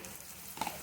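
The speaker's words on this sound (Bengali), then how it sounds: "আদা রসুনটাকেও ভালো করে ভেজে নেব" Ginger-garlic paste fries with onions in a pan, giving a soft, low sizzle with a couple of slightly louder crackles near the end of a short moment.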